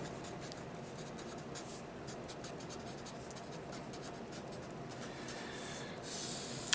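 Marker or pen writing an equation on a board for a precalculus example, a steady continuous scratchy stroke sound running throughout at low level, close by, with no talk.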